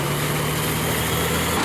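An industrial shredder driven by a 1,150 hp Cat engine chews through a massive tree trunk, giving a loud, continuous grinding roar with a steady engine drone and no break or voices.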